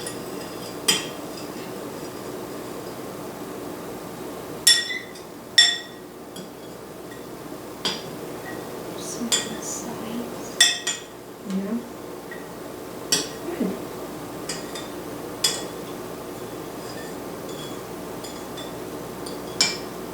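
A spoon stirs jello mixture in a bowl, giving scattered sharp clinks and taps against the bowl at irregular intervals over a quiet background.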